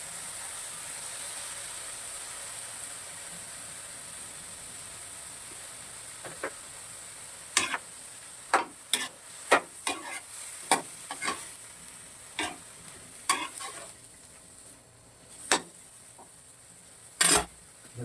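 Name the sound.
coconut milk added and stirred into cooking kalamismis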